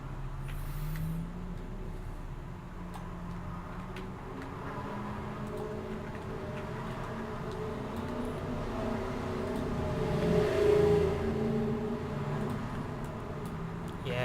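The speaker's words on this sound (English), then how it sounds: "traffic's pretty bad here" Road traffic rumbles steadily nearby, a continuous low engine drone that swells as a vehicle passes around the middle, with no talk over it.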